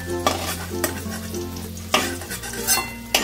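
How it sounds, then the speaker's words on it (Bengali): Potatoes frying in oil in a wok, a busy steady sizzle broken by several sharp clanks and scrapes of a spoon or spatula against the metal. "দেখো এদিকে আলুগুলো খুব সুন্দর করে ভাজা হয়ে গেছে"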